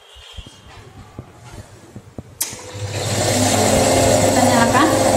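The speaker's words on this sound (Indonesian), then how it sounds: "maka yang pertama kali kita nyalakan dulu termostatnya" Thermostat water circulator for a semiconductor thermogenerator physics experiment switched on: scattered clicks give way to a sudden start, then a loud, steady whirring rush that builds and holds, with a voice talking beforehand.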